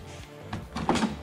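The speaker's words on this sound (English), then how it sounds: "you lift the door panel up." A door panel on a 2009 Honda Accord V6 is lifted off, giving a brief scrape and a plastic rattle at close range.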